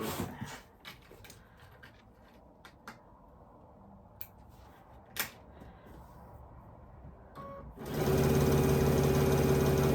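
Quiet sewing machine chain piecing quilt blocks, with sparse ticks and clicks that give way to a loud, steady machine run in the last two seconds.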